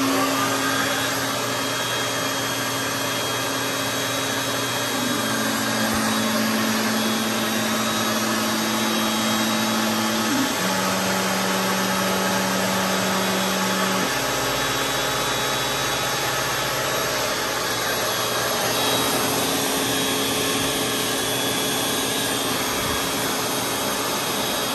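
An Inventables X-Carve CNC router carves MDF with a dust shoe fitted and a vacuum running, giving a loud, steady roar that holds throughout, with the cutter's tone shifting in pitch as it moves across the board.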